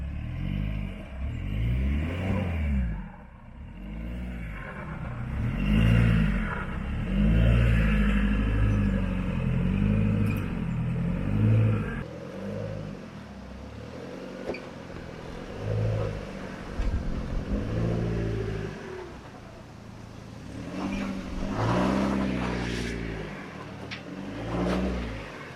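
A 4WD vehicle climbs rock steps on an extreme rock-crawling track, its engine revving and surging repeatedly over about 25 seconds with clatter from the terrain, fairly close and loud, with no talking.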